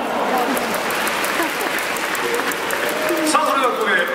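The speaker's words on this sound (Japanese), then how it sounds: "今日のベストダンサーにも大きな拍手を。" Baseball stadium crowd at a Hokkaido Nippon-Ham game in Sapporo Dome clapping for the day's best dancer, a continuous wide wash of applause with a PA announcer talking over it.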